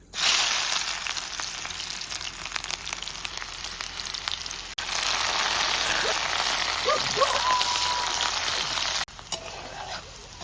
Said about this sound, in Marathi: आता तेल तपलं, आता कांदा टाकतो.